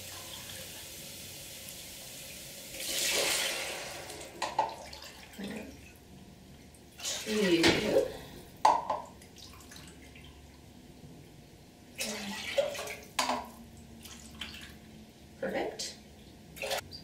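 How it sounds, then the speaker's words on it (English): Water is poured into a pot to make udon noodle broth, with several splashing, gurgling pours in bursts over the kitchen background and some talking in between. "The next thing we're going to do is just add water."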